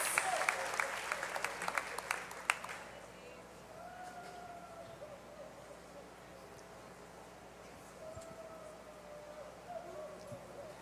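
Applause from a church congregation fills the first couple of seconds, then fades into a quieter room with a faint tonal hum and distant sounds.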